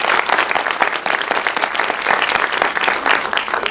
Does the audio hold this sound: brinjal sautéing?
no